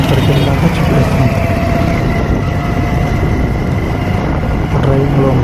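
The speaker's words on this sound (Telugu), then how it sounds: "డ్రైవింగ్లో ఉన్నాం బైక్ మీద." Riding a motorbike on the road in the midday sun, with a steady, loud roar of wind and engine rumble that fills the whole stretch without a break.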